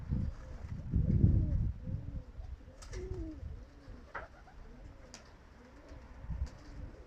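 A racing pigeon just back from a 15 km flight coos close by in low, throaty, repeated phrases, with faint rustling and occasional small clicks around it.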